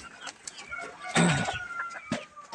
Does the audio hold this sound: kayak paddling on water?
no